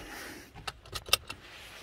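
Inside a car, keys jangle and click in the ignition as it is switched on, a short cluster of faint metallic rattles over a quiet cabin hum.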